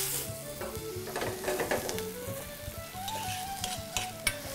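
Tomatoes and red peppers fry in a pan, sizzling softly and steadily while being stirred, with scraping and light knocks over a low background hum.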